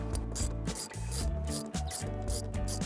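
A hand ratchet loosens roof rail mounting bolts on a 5th-gen Toyota 4Runner, its close, loud rapid clicking running in repeated strokes with brief pauses between them.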